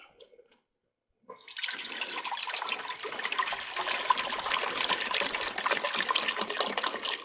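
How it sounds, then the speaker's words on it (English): Water runs steadily into a Dutch oven pot holding washed red potatoes at an outdoor camp, starting abruptly after a brief quiet moment and continuing as a close, loud, even splashing pour. "So we'll add a little water to our pot."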